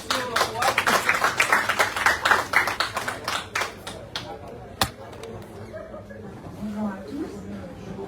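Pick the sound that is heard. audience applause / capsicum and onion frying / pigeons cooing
audience applause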